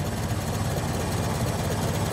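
A Ford Model T engine idles steadily at close range, a low, even chugging with a faint rhythmic knock and no voices over it.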